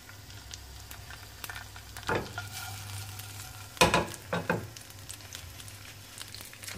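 Vegetarian merguez sausages frying in hot oil in a pan, a steady soft sizzle with a few louder crackling bursts and stirring scrapes, close and without talk.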